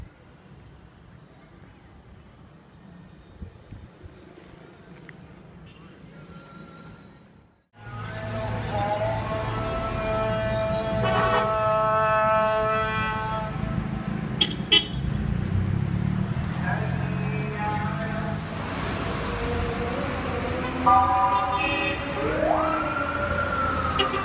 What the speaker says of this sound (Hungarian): Folyton dudálnak.